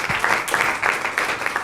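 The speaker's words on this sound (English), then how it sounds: "One more round of applause for Rich." An audience at a poetry reading applauds for the whole stretch, a dense, steady patter of claps with a few brief cheers on top.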